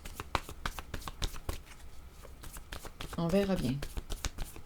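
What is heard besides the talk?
shuffling a deck of cards to draw one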